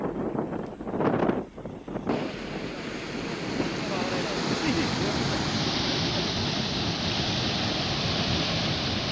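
Pathar river near Dhamana, flooded after days of heavy monsoon rain, rushing in a loud, steady roar of churning water that fills the whole clip, with brief bumps and wind buffeting at the start.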